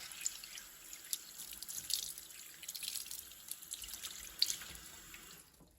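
Water runs and splashes faintly as dirt is rinsed off a model flat car carrying John Deere equipment, a soft continuous trickle with scattered drips and small splashes.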